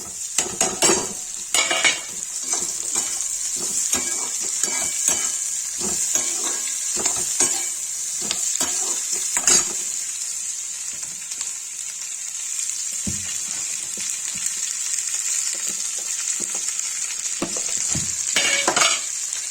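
Sliced onion sizzles in hot oil in a pan, a bright steady hiss broken by repeated scraping and clinking of a spatula as it is stirred, close and without speech.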